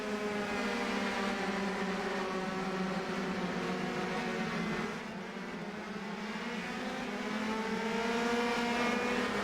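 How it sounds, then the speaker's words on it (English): Several race cars in a racing video game roar along together in a dense, continuous engine drone that dips briefly midway before swelling back up, with no voices over it. "See all the cars coming over the hill"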